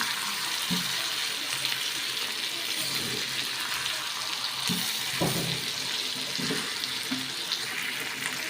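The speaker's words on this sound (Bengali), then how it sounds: "আমার মাংসটা কষানো হয়ে গেছে, আমি এখানে ঝোল দিয়ে দিব।" Water pours and splashes steadily into a pot of browned meat curry on the stove, a continuous close gushing wash with a few thuds and knocks along the way.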